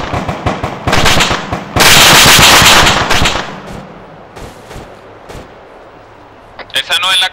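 Gunfire in the military shooter Arma 3, fought in an Afghan village: loud, sharp shots and dense rapid bursts crackle in quick succession, then fall away to quieter sporadic reports and a final close burst.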